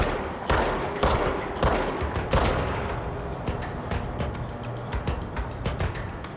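Rapid bursts of automatic gunfire in the video game Control, several loud close volleys in the first seconds, then thinner scattered shots trailing off, with no talking.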